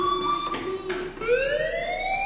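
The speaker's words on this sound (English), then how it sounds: "Hey, do you hear that fire alarm?" A fire alarm in the Life is Strange video game sounds as steady electronic wailing tones that shift and rise in pitch, continuous and moderately loud, with no talk.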